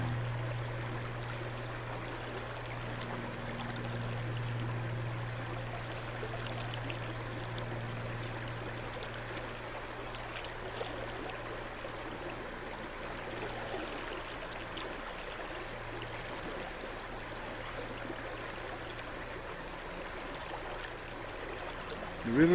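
A river in Sedona flows steadily, a soft continuous rushing wash of water with an unchanging low hum underneath and no voices.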